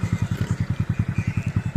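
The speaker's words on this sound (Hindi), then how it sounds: "मोटरसाइकिल दौड़ाते हैं जी" Motorcycles race at a local desert rally in Cholistan, their engines giving a fast, steady pulsing thrum that repeats evenly and holds close and loud throughout.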